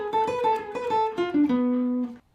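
A gypsy jazz guitar plays a fast single-note lick from the opening of a solo, with quick picked notes stepping downward before a held final note.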